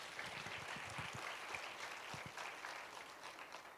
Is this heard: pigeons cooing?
no